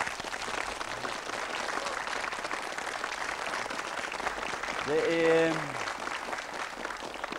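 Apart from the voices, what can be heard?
studio audience applause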